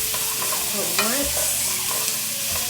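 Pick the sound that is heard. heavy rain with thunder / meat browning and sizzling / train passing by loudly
meat browning and sizzling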